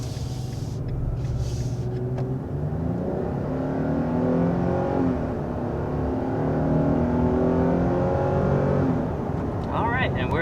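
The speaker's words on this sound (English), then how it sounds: "And we're up to 60 just like that. Nice. Really quite swift acceleration." A 2022 Nissan Frontier mid-size pickup accelerating hard, its engine note rising in steady harmonic sweeps from inside the cabin, a continuous loud drone that climbs through gears.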